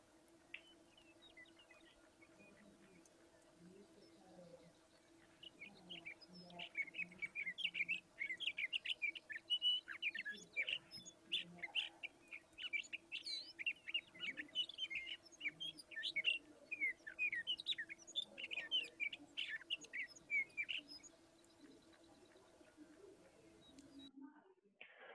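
Wild birds sing in a quiet outdoor field recording, a steady stream of high chirps and warbled phrases lasting about fifteen seconds, moderately distant over a faint hum and soft handling noise.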